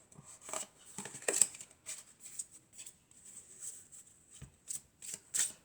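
Oracle cards being shuffled by hand, a series of close, soft riffling and slapping bursts in uneven rhythm, fairly faint, with no talk.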